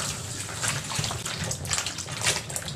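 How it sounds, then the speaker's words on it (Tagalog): Soaked kundol (winter melon) being rinsed and washed by hand in water, with a steady, close splashing and sloshing that runs the whole time and has no voices over it. "Tapos babanlawan lang natin siya. Hugasan ng maigi."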